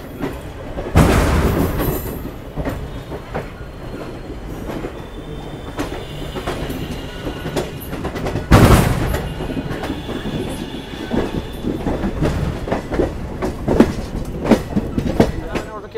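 Vibhuti Express passenger train running along the rails in India, a loud steady rumble with rhythmic clickety-clack of wheels over joints and occasional squeal, with speech heard faintly over the noise.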